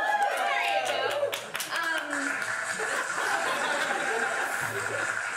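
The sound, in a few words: cheering and clapping crowd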